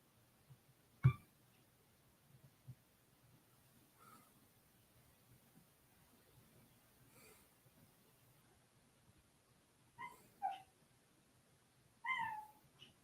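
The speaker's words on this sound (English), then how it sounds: "And there's the cat." A cat meows and squeaks indoors on a quiet night: a few short, faint squeaky meows scattered across the stretch, with a louder one near the start and a cluster of chirps near the end.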